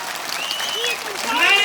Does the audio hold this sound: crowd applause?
yes